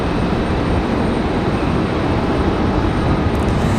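A Delta airliner touches down at Raleigh-Durham International Airport, its engines producing a loud, steady broadband roar throughout that stays close and constant, with no voices.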